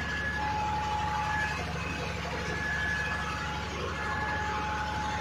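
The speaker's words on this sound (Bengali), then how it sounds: "এই হচ্ছে বোট, এটা গভর্নমেন্ট বোট। এই যে আমরা যাচ্ছি।" Engine of a government passenger boat on the Alappuzha backwaters, a steady low rumble with a constant droning hum, close and continuous throughout with no talk.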